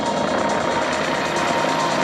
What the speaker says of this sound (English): a wide-bodied helicopter we're looking at there, too. I mean, it's a big machine.